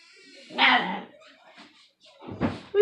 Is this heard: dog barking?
yes